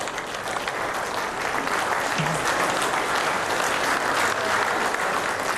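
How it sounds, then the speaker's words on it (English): Spectators at a women's world cup lawn bowls singles final applaud in a steady, even patter of clapping that holds at a moderate level throughout with no voices over it. "Just a nervous round of applause"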